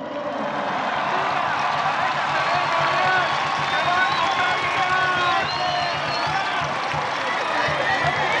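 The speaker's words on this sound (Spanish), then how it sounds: "Fuerte aplauso, por favor." A crowd at a political event applauds and cheers, with broad sustained noise, whistles and voices blending together under constant loudness throughout.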